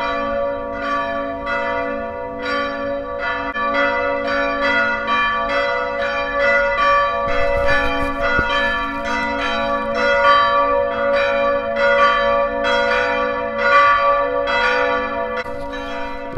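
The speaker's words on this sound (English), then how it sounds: "before they had mechanical clocks, the church bells in these medieval European cities is how people knew time." Church bells peal in a continuous, ringing stream of overlapping strikes that sounds loud and resonant for the whole stretch. No one speaks over them.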